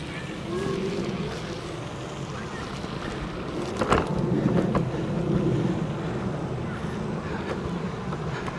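Unagi Model One Voyager electric scooter riding a rough outdoor trail, a steady rumbling ride noise with heavy wind buffeting the microphone and a few sharp jolts from bumps around the middle.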